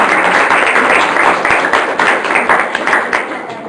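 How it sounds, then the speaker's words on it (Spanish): Applause from a group gathered for a curriculum discussion session, a steady dense patter of clapping hands with a few voices murmuring underneath. "Yo quisiera que se dieran un aplauso realmente en este momento."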